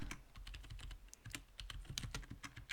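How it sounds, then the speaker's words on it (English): Quick, close typing on a computer keyboard, a steady patter of crisp clicks and key taps with no talk. "So we're just going to type in best"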